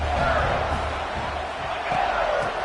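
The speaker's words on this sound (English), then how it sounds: "for an entire game, they are on their feet, yelling, screaming" A football crowd yelling and screaming at a game, a dense continuous roar of many voices with scattered louder shouts.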